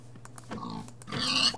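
A pig in the Minecraft video game grunts and oinks in a short burst close by, with a few soft clicks before it and no speech.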